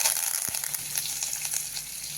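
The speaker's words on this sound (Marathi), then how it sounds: "मोहरी वाजली ते आपण जिरे टाकून घेणार आहोत" Mustard seeds crackle in hot oil during tempering for a spiced amti, a close, continuous sizzle with one dull knock near the start and no talk.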